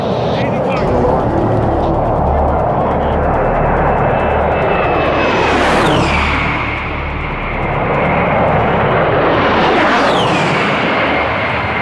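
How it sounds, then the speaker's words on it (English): A low-flying A-10 Warthog jet roars overhead with a rising whine, passing close, then a second pass builds loudly again. "Warthogs were a very interesting kind of plane"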